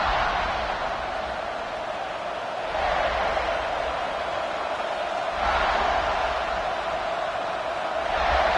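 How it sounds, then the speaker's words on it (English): Football stadium crowd roaring as a steady, broad wash of noise that swells in waves and stays loud and distant throughout, with no clear individual voices. "This crowd ready to make its presence known."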